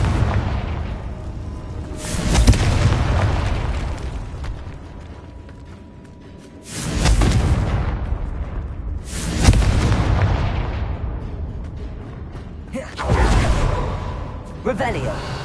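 Confringo blast spells exploding in the video game Hogwarts Legacy: four loud, booming detonations, each decaying into a rumbling tail, spaced a few seconds apart.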